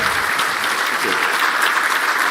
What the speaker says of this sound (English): would you give a huge round of applause for George there, George Marcotte, our chair